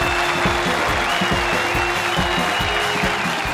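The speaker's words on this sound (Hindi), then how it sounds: "प्लीज तालियों के साथ स्वागत कीजिए सुमन की चंडा और चौकड़ी का, राजीव काम्या और कृष्णा सुदेश।" A studio audience at a television comedy show applauds to welcome performers, even and steady over a rhythmic thumping music bed, with no talking.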